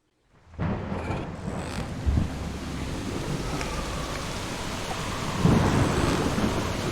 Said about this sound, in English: Got a little thunder and some rigging creaking, some wind.